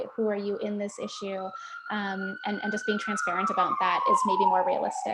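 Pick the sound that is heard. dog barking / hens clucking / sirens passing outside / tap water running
sirens passing outside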